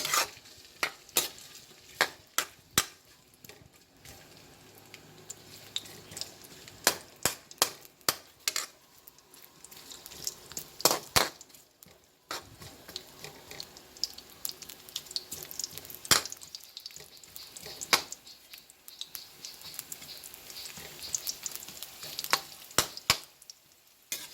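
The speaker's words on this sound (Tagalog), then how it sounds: "Pag mainit na po ang mantika, lagyan po natin ang luya." Ginger frying in hot cooking oil sizzles softly and continuously, broken by frequent sharp clicks and scrapes of stirring in the pan, with no talking.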